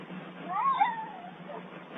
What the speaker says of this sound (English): This is the fattest cat I ever seen in my whole fucking life.